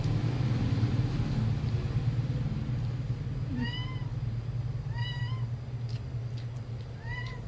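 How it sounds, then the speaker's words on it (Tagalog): A cat meows three times in short, rising calls, spaced a second or so apart, over a constant low engine-like hum. "Yung pusa ko gutom na."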